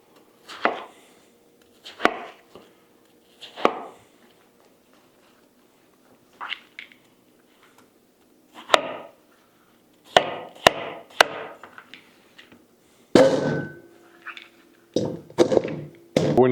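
A knife cutting watermelon into cubes for a salad, with irregular bursts of chopping strokes against a board, several quick clustered cuts separated by pauses, close and fairly crisp.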